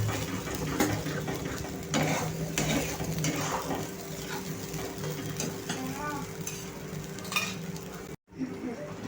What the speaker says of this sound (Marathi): आता हा मसाला आपण छानपैकी परतून घेणार आहोत